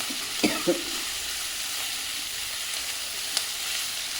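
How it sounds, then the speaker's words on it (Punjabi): Masala and chopped tomatoes roast in a pan for an aloo matar curry, a steady low sizzle with a couple of brief spoon knocks and scrapes against the pan. "ਚੰਗੀ ਤਰ੍ਹਾਂ ਭੁੰਨ ਲੈਣੇ ਆਪਾਂ ਇਹ"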